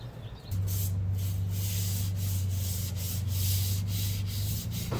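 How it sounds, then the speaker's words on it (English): Light sanding of varnished wooden spars for a small cruising dinghy: a steady, close rubbing hiss with a low continuous hum underneath, running unbroken for several seconds. "A light sanding helped smooth it out."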